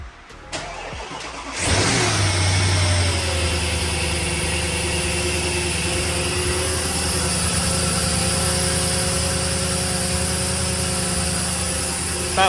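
A 2007 Audi Q7 engine cranks briefly and catches, rising to a loud, close, steady idle that holds with a constant hum and no talking.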